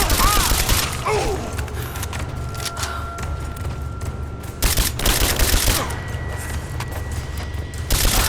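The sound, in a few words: gunfire in video game Rise of the Tomb Raider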